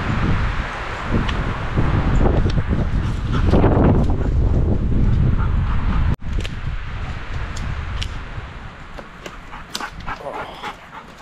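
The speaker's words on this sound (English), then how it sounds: "In case you guys can't hear, it is super windy today." Strong gusty wind roars and buffets the microphone, loudest in the first half and then easing, with a dog's brief noises in between.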